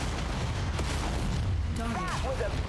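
A mech blows up in the battle game Mechwarrior 5: Mercenaries, a loud, rumbling blast that rolls on under continuous combat noise, with a voice faintly present.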